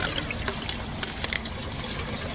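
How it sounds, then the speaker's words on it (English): Water drains down the stand tube of a bell siphon in an IBC aquaponic grow bed, a close, continuous trickling and gurgling with small splashy spikes over a steady liquid hiss. "the water's just started to go down that stand tube now"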